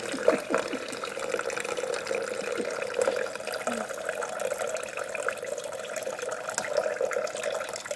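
Apple juice running steadily out of a homemade cider press, a continuous close trickle of liquid with small drips and splashes throughout.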